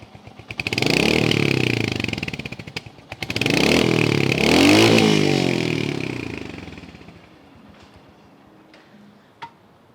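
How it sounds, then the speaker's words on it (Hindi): Royal Enfield Hunter 350 motorcycle with a 350 cc single-cylinder engine, loud close engine and exhaust revving in two strong bursts that rise and fall, then settling to a quieter idle with a few ticks. "पहले let's listen to the bike what it has to से।"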